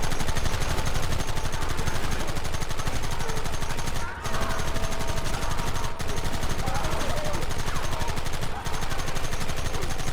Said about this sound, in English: Oh, this is way better than the Gatling gun